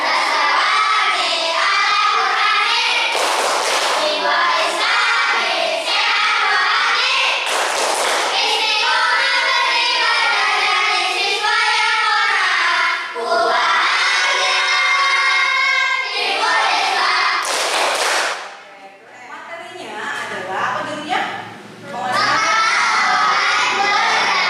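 Schoolchildren shout the tepuk muhizbah school clap chant in unison, rhythmic clapping bursts punctuating their loud group chanting, with a short quieter pause before the chant resumes.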